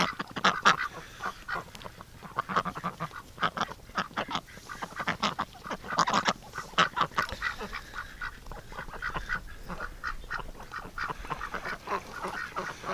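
A group of ducks quacking and chattering nearby, with overlapping quacks and soft honks in a busy, continuous stream.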